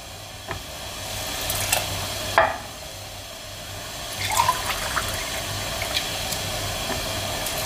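Water runs and splashes into a pot of green lentils being readied for boiling, a steady close pouring wash with a few small clinks, no talk.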